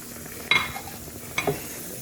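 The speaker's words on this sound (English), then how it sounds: "Everything's going to go into the frying pan." Soft sizzling of spices frying with flour in a pan, with two scraping stirs from a utensil against the metal, fairly close and otherwise steady.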